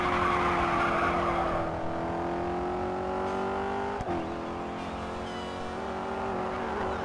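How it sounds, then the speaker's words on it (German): Dodge Challenger racing in the video game GRID 2, engine holding a steady roar with shifting pitch and tire squeal, loud and continuous with no talk over it. "Der lässt sich aber gut fahren, der Dodge Challenger."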